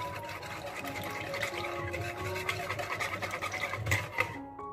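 A spoon scrapes and swirls through chocolate cake batter in a bowl, a close, continuous wet scratching with irregular strokes over several seconds.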